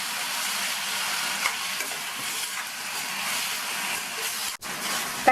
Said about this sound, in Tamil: தக்காளியை இந்த மாதிரி லேசாக வதக்கி விட்டுட்டு மூடி வச்சிடலாம்.